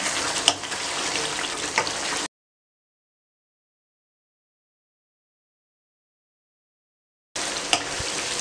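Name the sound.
chicken frying in yogurt sauce in a pan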